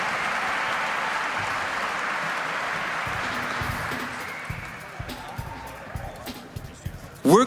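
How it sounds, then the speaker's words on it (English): Crowd applause for the president at a men's BMX finals competition, a broad steady wash of clapping that thins out after a few seconds, followed by scattered knocks and a brief sharp sound at the end. "can we please give a big round of applause for the president, Mr. Alakaris?"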